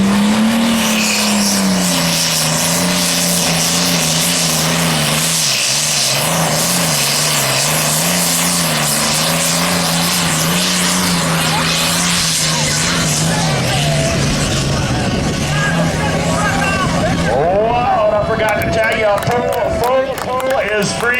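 A 1959 Farmall 560 tractor in light limited super stock class roars at full throttle during a county fair tractor pull, a loud, steady diesel drone that wavers and strains, with an announcer talking over it.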